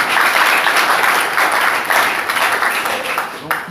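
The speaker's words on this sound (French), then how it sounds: "Applaudissons pour le Seigneur." Applause for the Lord at a church service, a close, lively burst of clapping that swells and dips in waves before thinning out near the end.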